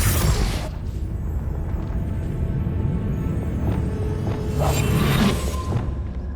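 A Confringo fire spell from Hogwarts Legacy bursts with a sharp explosive crack at the start, then a rumbling tail and a second whooshing blast a few seconds later, loud with no talk.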